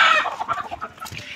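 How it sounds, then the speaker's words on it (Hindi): A hen awaiting slaughter clucks in a rapid, uneven series of short calls, close and fairly loud, with no talk over it. "चलो भाई मुर्गा पकड़ो"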